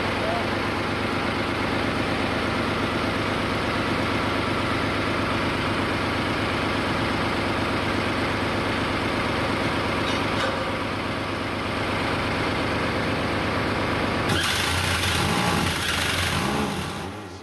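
A ship's bow thruster engine, restarted after six years out of use, runs with a steady loud low drone and a constant heavy rumble, then changes abruptly near the end.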